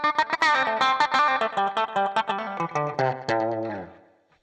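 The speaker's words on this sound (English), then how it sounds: "I just like that, the popping, especially going back and forth between your thumb and your middle finger." Plucked electric guitar notes with a popping attack, played by alternating thumb and middle finger in hybrid picking, run through effects with light distortion; a quick, steady run of distinct notes that rings out and fades at the end.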